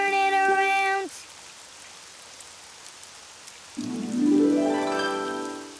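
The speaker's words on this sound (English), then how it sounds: "Oh, it's raining outside." Gentle rain falls steadily through a Daniel Tiger's Neighborhood Spin and Sing kids' game, bracketed by bright musical jingles at the start and near the end, with no talk over it.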